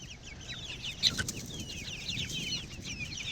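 Young chicks peep and cluck inside a cage, a busy chorus of rapid high chirps overlapping continuously at close range, with one sharper call standing out briefly.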